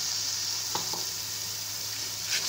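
Tomato puree goes into ginger garlic paste frying for mutton karahi, making a steady, fairly loud sizzle with a couple of faint utensil taps, and no talk.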